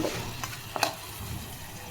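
Mutton pieces being stirred in a frying pan, a soft sizzle with a couple of brief scraping clicks of the spoon, close and fairly quiet, no talking.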